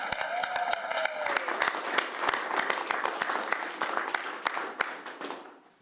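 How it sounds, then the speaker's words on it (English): People at a city council meeting clap for the building department, a lively burst of close, crisp hand claps that thins out and fades near the end, a brief voice at the very start. "A round of applause,"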